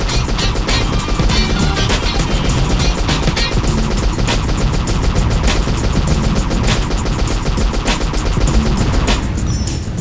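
Cannon fire in the Yager video game, aimed at cows, comes as a dense run of loud, rapid booming shots with sharp cracks over a constant rumble, stopping abruptly near the end.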